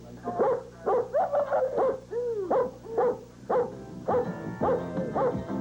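Two friendly police dogs bark and yip in quick, repeated bursts, close and fairly loud, with short pauses between volleys and no talking.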